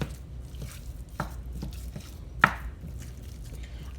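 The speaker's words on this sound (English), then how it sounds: "Now I'm gonna break down my meat." Lean ground meat with 3% fat, cooked with peppers, is broken up in a pan on a low stove: a few separate, close taps and scrapes, one sharper knock, over quiet background noise.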